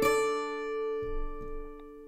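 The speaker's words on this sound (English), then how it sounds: "It's called Octave Spread, and it's based on a mandola." Release-triggered Octave Spread layer from Komplete 15, based on a mandola, rings out as a clear plucked chord in octaves that decays, followed by a couple of faint soft thumps.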